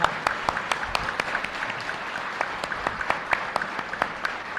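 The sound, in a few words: audience clapping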